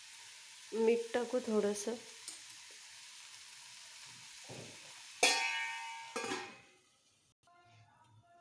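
Kardi (safflower leaf) bhaji cooks on a low gas flame with a soft, steady sizzle and hiss beneath a woman's brief speech, fading out near the end.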